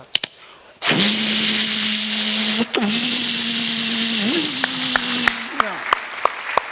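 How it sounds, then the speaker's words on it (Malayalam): A new electric mixer grinder runs with a loud, steady motor whine that starts abruptly, stops briefly, changes pitch as the load shifts, then cuts off and leaves a few clicks. "പുതിയ മിക്സിക്ക് ശബ്ദമില്ല, കണ്ടോ?"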